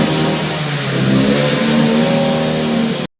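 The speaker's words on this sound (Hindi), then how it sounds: "बाहर से रोड की आवाज़ आ रही है, उसको इग्नोर करिएगा।" Road traffic outside a home, with passing cars and engines revving, rumbles steadily and fairly loud for about three seconds with no talk over it, then cuts off abruptly.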